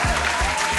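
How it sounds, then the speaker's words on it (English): A studio audience bursts into loud, dense applause for a rapper interview guest on a rap roundtable show, with hand claps filling the brief moment on their own. "Let's get the applause out here for that man"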